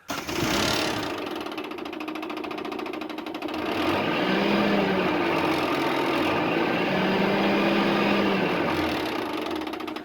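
Mitsubishi Pajero engine held around 3,000 RPM with an abnormal noise, a steady rattling, buzzing drone with a higher whine, running continuously and fairly close throughout.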